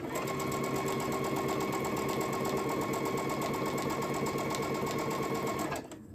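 A sewing machine stitches steadily while fabric triangles are chain pieced one after another, a fast, even mechanical whir running loud and close before stopping abruptly near the end.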